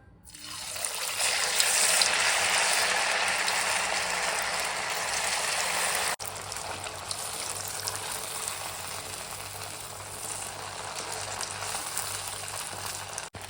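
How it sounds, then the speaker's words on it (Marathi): Sabudana vadas deep fry in hot oil, giving a dense, steady bubbling hiss that starts loud and eases slightly after a faint click midway, with no talking. "इकडे आपलं तेलही तापलेलं आहे आता आपण एक एक करून वडे तळून घेऊया"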